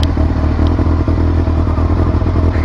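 A motorcycle engine idles loudly and steadily close by, with rattly mechanical clatter and a few thumps before it is switched off.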